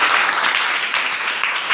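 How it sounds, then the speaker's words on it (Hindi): Students clap together during a talk on sharpening the mind and a student's daily routine, a dense, even burst of applause filling the room without any voices on top. "बढ़िया, ताली बजाओ इसके लिए"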